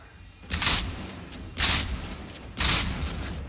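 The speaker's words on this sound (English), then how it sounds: "wait for him to fire that minigun off. The sound of it is beautiful" A minigun on a hostile machine in Generation Zero fires three loud, roaring bursts about a second apart, each a dense booming blast with a rumbling tail.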